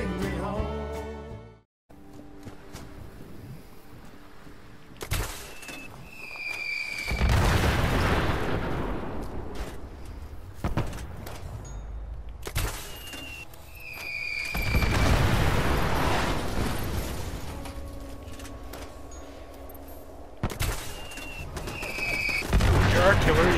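Artillery shells in Fallout 76 land in several heavy booming explosions spaced a few seconds apart, each a loud broadband blast with a rumbling decay, under game ambience with a voice heard at times.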